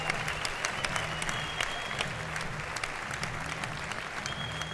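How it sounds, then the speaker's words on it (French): A fight crowd at a Lions FC 10 event applauds fighter Thiago Fernandes with steady, dense clapping, a low hum running underneath throughout. "On l'applaudit."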